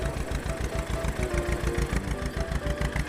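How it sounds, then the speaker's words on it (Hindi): A tractor's diesel engine runs in a rough, rapid knocking chug, steady and close throughout, with no talking. "तब वो ट्रैक्टर रैं रैं करके स्टार्ट हुआ"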